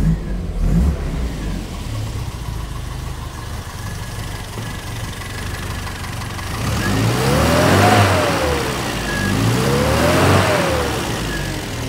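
A classic Mini engine, just restarted, idles with a steady low rumble, then revs up and down twice in smooth rising and falling sweeps, close and loud.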